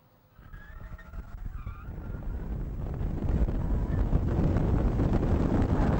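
A car engine swells and roars louder with rushing wind and tire noise as the vehicle slides, rising steadily to a sustained loud drone.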